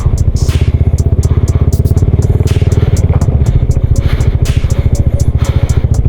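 A scooter on standard, non-off-road tyres works slowly over a rough road toward Talon Pari Falls in Bulacan, its engine drumming steadily close by while the frame clatters and rattles over bumps throughout.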